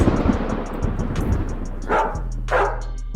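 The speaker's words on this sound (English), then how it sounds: "what I'm gonna do with the dog barks is I'm gonna make them a little deeper" Dog barks used as a sound effect in a producer tag: two short, loud barks in quick succession over a rumbling thunder-like bed and a steady low tone.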